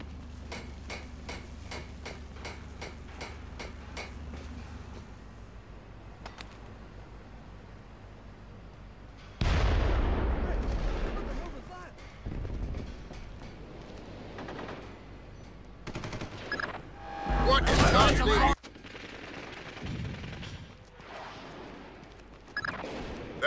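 An air force bombardment in the Tom Clancy's Splinter Cell video game: rapid ticking fire, then loud, heavy blasts and rumbling booms that come and go in waves.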